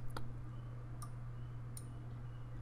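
Faint, sharp clicks of a computer mouse pressing an on-screen button in 3D animation software: a few isolated ticks spaced about a second apart over a low steady hum, with no voice.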